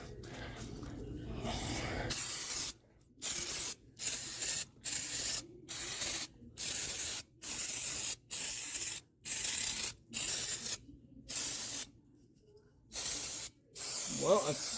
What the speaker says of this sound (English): Brake clean.